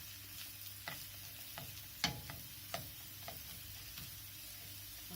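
A plastic spoon stirs onions or similar food softening over low heat in a pan, giving soft intermittent scrapes and taps over a faint, steady sizzle, close and quiet, with no talking.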